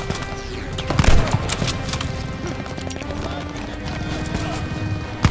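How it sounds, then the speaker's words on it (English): Suppressive gunfire rattles through a Call of Duty Vanguard campaign battle against an enemy half-track: dense, rapid overlapping shots that keep up without pause, with a louder, sharper burst early on amid a busy combat din. "Suppressive fire, now!"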